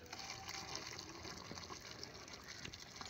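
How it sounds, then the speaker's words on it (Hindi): Sugar syrup pours into a mixture of rice and flaxseed, a soft continuous liquid rush and splash, faint and steady throughout with no talking. "इसके अंदर मैं ये वाली चाशनी जो है ना इसे डालूँगी।"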